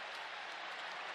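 Stadium crowd at an NFL preseason game between the Giants and Jets roaring in a dense, steady wash of cheering and applause, loud and continuous without pause.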